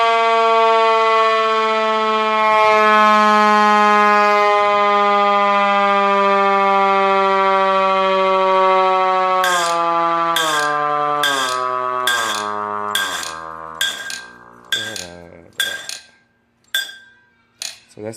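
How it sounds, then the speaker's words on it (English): A Q2B siren wired to a vehicle winds up into a loud, sustained wail, then sounds in a series of short, rhythmic chopped blasts that decay toward the end. "And this one's the siren."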